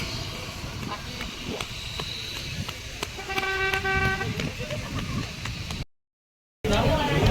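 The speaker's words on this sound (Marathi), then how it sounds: "दीदी तुला हॉर्न वाजवतोय" A car horn sounds in a short steady toot over heavy rain and road noise outdoors, with background commotion around it and a brief dropout near the end.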